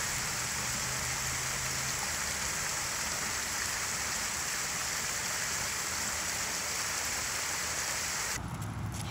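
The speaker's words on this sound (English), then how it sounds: "Another waterfall." A waterfall on a nature walk gives a steady, loud, broadband rushing roar that fills the whole stretch without pause.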